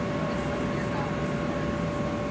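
Steady, low airplane cabin roar during flight on a trip home from a nationals competition, a continuous even hum with faint voices in the background.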